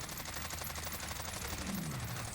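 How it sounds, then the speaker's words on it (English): An XM4 rifle in Warzone fires at a wall while aiming down sights. A steady, rapid automatic stream of shots runs throughout, loud and close, with a low tone sliding down near the end. "I'm going to ADS and shoot at a wall"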